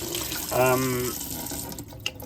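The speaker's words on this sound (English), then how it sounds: "If I turn the cold water tap on, you'll see it's slow." Cold water tap aboard a 1988 Moody 422 sailboat, trickling slowly through a partly blocked filter; a steady near hiss of flowing water with a brief tonal whine in the middle, fairly quiet.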